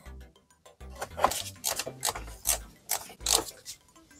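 Ratcheting wrench undoing a bolt on an EA288 2.0 TDI diesel engine, a series of quick mechanical clicks and rattles in uneven bursts, close and moderately loud, with no voices.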